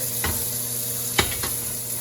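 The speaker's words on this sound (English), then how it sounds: "Yeah, nice sear." Pork chops searing in a cast iron pan, a close, steady hiss of sizzling fat with a few sharp crackles and scrapes from tongs turning the meat, no speech.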